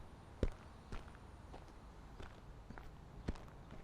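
Footsteps of a man walking by, a sparse series of soft thuds with a few heavier steps, fairly quiet and unhurried.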